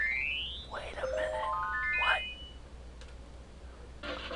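A bell struck in the Sega Genesis game Pinocchio gives bright electronic chiming tones in a stepped run of notes, under and between people talking.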